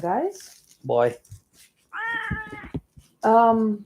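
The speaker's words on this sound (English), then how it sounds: "that's a cat invasion" A cat meows loudly and repeatedly nearby, with drawn-out, wavering cries, while people talk in between the calls.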